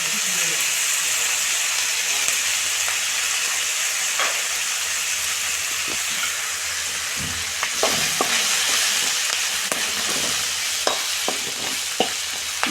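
A spice masala with a spoonful of coconut powder fries in a pan for Rayalaseema-style country chicken curry, a steady close sizzle broken by scraping stirs and clinks, with no one talking.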